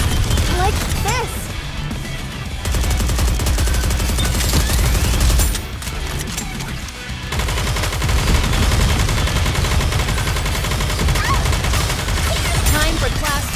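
Dense automatic gunfire and crashing blasts rage almost without pause in the Goddess of Victory NIKKE battle, loud and close, with a short lull in the middle and character voices shouting over the shooting.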